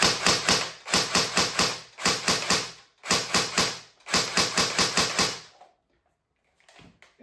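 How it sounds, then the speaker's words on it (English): A Tokyo Marui FAMAS SV electric airsoft rifle from 1993 dry fires in rapid bursts, a loud, close mechanical clatter of gearbox cycles in quick groups with short gaps, then silence and a faint handling noise. "I will show you some dry fire right now, where you can hear how loud this thing is."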